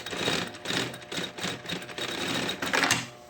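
Sewing machine stitching a seam on a backpack panel, a rapid mechanical chatter running in short bursts with brief pauses between them, close and fairly loud, with no talking.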